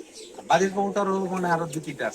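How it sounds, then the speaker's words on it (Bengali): Pigeons kept in a loft coo nearby in a few soft, throaty rolling phrases, with a voice speaking briefly around them. "ওই কবুতরের ভিতরে মেন কবুতর যেটা ওটা সহ আর কিছু কবুতর"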